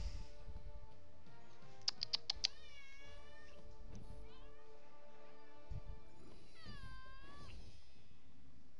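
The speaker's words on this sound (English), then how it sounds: "My cat demanding attention." A domestic cat meows insistently for attention, several clear meows with a quick burst of short calls, close to the mic over a low background hum, with a voice briefly speaking.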